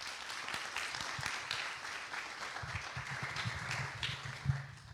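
Applause from an audience at a Mediation Week talk on Mexico's LGMASC law, a moderate spread of clapping hands with some nearer individual claps standing out, steady across the few seconds.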